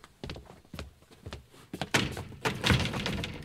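Heavy thunks of someone banging on an iron door of a locked room, several dull blows followed by rougher, louder clattering and rattling, close by and without talking.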